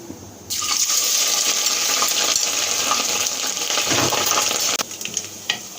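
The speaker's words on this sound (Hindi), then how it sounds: "थोड़ा सा हम फ्राई होने देंगे लहसुन अदरक के पेस्ट को।" Garlic ginger paste fries in a hot pot while a chicken handi biryani is being made, a sudden loud sizzling hiss that starts abruptly and crackles steadily close by, then settles into softer spitting.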